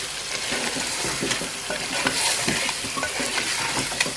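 Chicken pieces frying in a pan, with yogurt about to be added for a chutney chicken, stirred steadily with a utensil: continuous close sizzling and scraping, with repeated clinks and scrapes against the pan and no talking.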